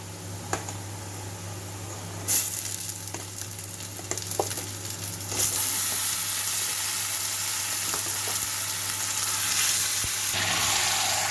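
Chicken frying in a pan of oil with onions browned deep red, a steady close sizzle that grows louder and denser midway, with a few soft stirring knocks and no talk.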